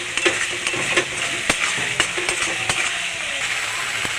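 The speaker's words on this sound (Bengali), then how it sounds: "মশলাটাকে ভালো করে কষিয়ে নেব" Masala with turmeric and chili powder fries in a pan for a fish curry, giving a steady hissing sizzle with sharp scraping clicks from a stirring spoon at irregular intervals, close and moderately loud.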